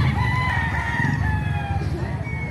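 An 18-month-old Gilmore Hatch gamefowl rooster crows loudly and close at a poultry market, one drawn-out call filling the moment amid background crowd murmur.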